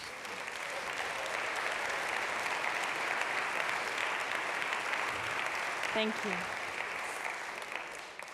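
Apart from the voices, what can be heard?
applause for Ecosia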